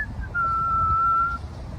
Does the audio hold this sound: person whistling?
yes